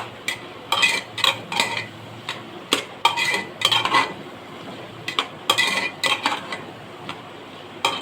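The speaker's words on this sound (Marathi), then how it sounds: "ते सगळं आपल्याला व्यवस्थित परतून घ्यायचं आहे" Pav bhaji masala with coriander and chilli powder being sautéed in a pan, a spoon clinking and scraping against the metal in quick uneven bursts, close and fairly loud with little sizzle audible.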